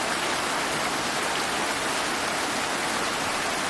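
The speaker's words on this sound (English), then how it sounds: "We woke up the next morning to a very heavy rain" Steady, dense heavy rain pouring down on a sailboat during a storm with a constant hiss, no voices, continuous throughout.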